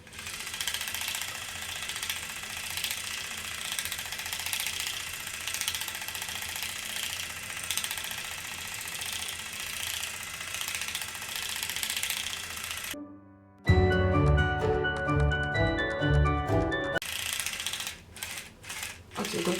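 An electric facial cleansing brush is switched on and runs with a steady buzzing whir for about thirteen seconds, then cuts off, followed by a burst of other sound.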